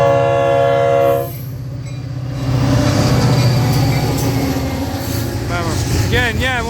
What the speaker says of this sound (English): this train's cooking right along